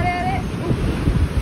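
Sea waves break on black rocks along the Mahabalipuram shore in a short, rough wash of surf mixed with gusty wind noise, with a brief whistling tone at the start.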